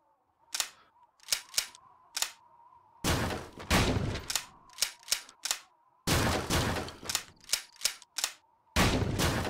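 Sharp, repeated shots from an over-under shotgun at a VR skeet range, some crisp and isolated, others followed by loud, longer noisy bursts, set against a quiet steady tone with no speech.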